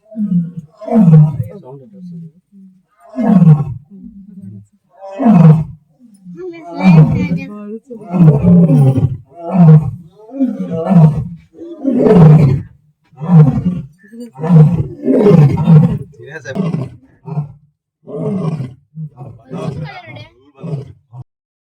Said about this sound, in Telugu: ఒకసారి సింహ గర్జన వినండి